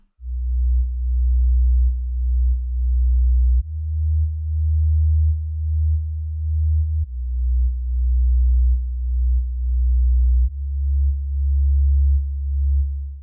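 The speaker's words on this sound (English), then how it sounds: "the bass comes from Serum and sounds like this on its own" A deep synthesizer bass made in Serum plays alone: four long, sustained low notes, each held a few seconds with a gentle pulsing throb, loud and steady.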